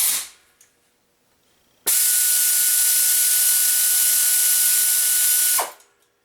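An SP Air 1/4 inch air ratchet with a 360° rotational head runs wide open on high, giving one loud, steady pneumatic hiss and whir for about four seconds that starts abruptly and cuts off cleanly, with near silence before and after.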